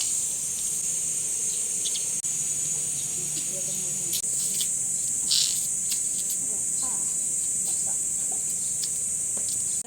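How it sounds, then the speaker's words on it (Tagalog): Crickets chirp steadily as a high, continuous insect drone across the grounds of a nature resort near trees and a swimming pool, with faint background activity beneath. "Mga kuliglig."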